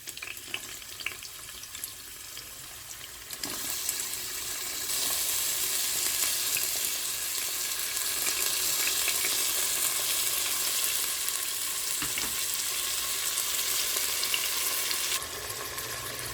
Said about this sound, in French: Alors on met les oignons à dorer.